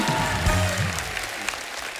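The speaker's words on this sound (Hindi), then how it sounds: "जोरदार तालियां हमारे मेहमानों के लिए।" Studio audience at a Hindi comedy talk show clapping for arriving guests, a dense burst of applause that fades out over two seconds, with a voice over the start.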